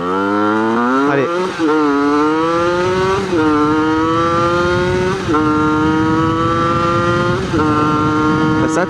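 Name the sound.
motorcycle with 70cc top noir setup accelerating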